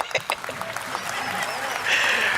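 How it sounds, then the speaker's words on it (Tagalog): A crowd claps at an event, light scattered hand claps at first that swell into steady, fairly loud applause toward the end, with a voice talking over it early on. "Ni Tamba, mga kasakupan ni Tamba, pumapalakpak din eh."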